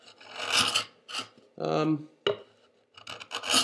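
A hand saw rip-cuts along the grain of wood in several rough strokes, each a harsh scraping burst separated by short pauses, close by.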